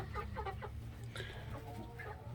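Partridge Brahma hens and two roosters clucking in a backyard flock, a steady run of short clucks and calls close by, with a low hum of background noise underneath.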